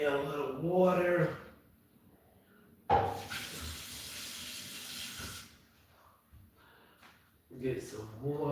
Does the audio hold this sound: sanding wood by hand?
no